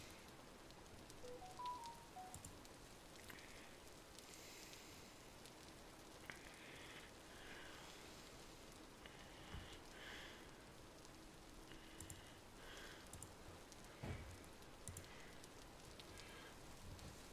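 Steady rain falling in the game Vintage Story, a soft continuous patter at low level under a faint background hum, with a few brief light clicks and no talking.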